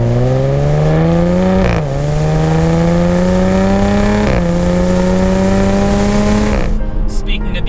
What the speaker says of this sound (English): listen to that sweet exhaust note